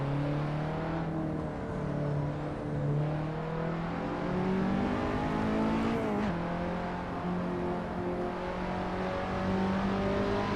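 A turbocharged KTM X-Bow race car engine in fourth gear in a racing video game at Silverstone GP, a continuous tonal whine whose pitch climbs steadily, dips briefly at a shift, then climbs again.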